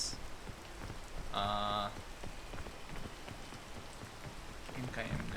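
Steady rain falling in a video game, a broad continuous patter throughout, with a short harmonic tone and brief talk over it near the end.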